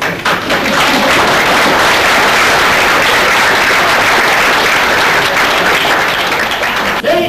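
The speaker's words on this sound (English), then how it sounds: "Can you give her a round of applause, please?" A live audience at a radio mystery show breaks into a loud, sustained round of applause, a dense continuous wash of many clapping hands with no voices heard over it.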